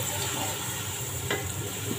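Green chillies fry in a pan until golden, crackling with a steady, dense sizzle and a few sharper pops. The sound is close and continuous, without speech.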